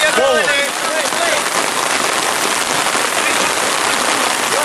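Rain pours steadily onto a surface at an outdoor football match, a dense, continuous hiss that stays loud throughout, with a brief whistle-like tonal sound near the start.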